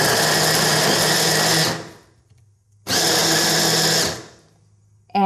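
Food processor blade whirring as it chops carrots for a Cuban black bean soup, two loud steady pulses of motor whine with a short pause between, and a third starting at the end.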